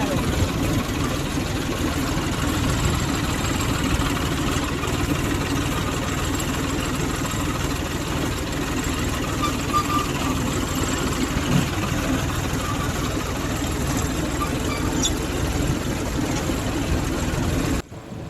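A tractor engine runs steadily while sowing chickpeas in a field, a close, continuous mid-low diesel drone with a constant knocking rhythm that holds unchanged until it cuts off at the very end.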